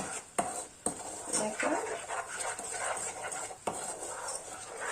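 Caramel is stirred in a pan beside melted butter, with utensil scrapes and clinks against the metal over a sizzling background, fairly close, while a voice speaks briefly.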